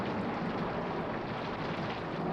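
Steady rain falls in a dense, even patter with a soft low rumble underneath and no voices.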